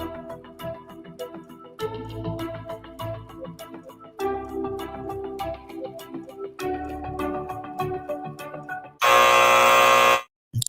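A game show buzzer on a Bermuda trivia radio segment cuts in loud and harsh for about a second near the end, after a stretch of upbeat background music, then stops abruptly.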